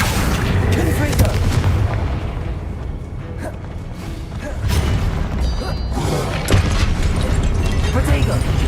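A Confringo blasting curse goes off in the Hogwarts Legacy video game as a loud, dense boom with rumbling low end. It sits in a busy game soundscape of repeated impacts and mechanisms, and a voice talks over it.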